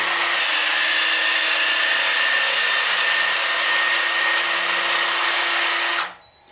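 A HYTORC hydraulic torque tool loosening a bolt on an insulating kit with a HYTORC washer, giving a loud, steady mechanical whine with tonal hum that runs for about six seconds before cutting off abruptly.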